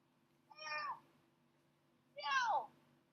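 A house cat meows twice, each call clear and fairly close, separated by a short pause, with a low steady hum underneath.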